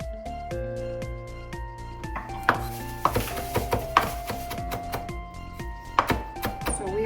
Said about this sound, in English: Now chopping the culantro